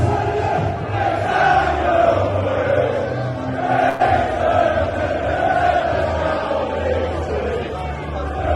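A large crowd at a remigration protest march in Manchester, a steady roar of many voices chanting and shouting together, loud and continuous without pause.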